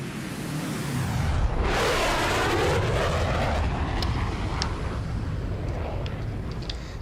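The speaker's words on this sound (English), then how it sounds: "That experimental jet that Nick is flying is so fast that every time I hear it, by the time I look, it's gone already." A fast experimental jet in Flight Simulator 2024 roars past with a loud, steady engine rush that swells and sweeps through before trailing off.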